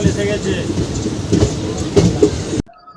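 Express train 58029 on the Kolkata to Digha line rumbles and clatters on its rails as it slows toward a halt at Ramnagar. Steady broadband noise cuts off abruptly near the end into near silence, with faint voices underneath.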